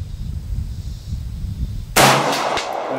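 A single sharp, loud gunshot from a Boberg XR9 pistol fired at an outdoor target range, cracking out abruptly after a stretch of low wind rumble and trailing off in a brief echo.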